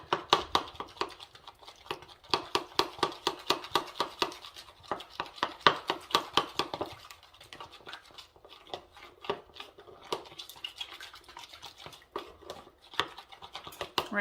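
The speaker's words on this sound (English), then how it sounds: "I'm going to mix this up pretty well." A spoon stirs fruit salad with about two tablespoons of honey in a large bowl, giving steady, rapid scraping and squelching strokes that continue close and rhythmic throughout with no talking.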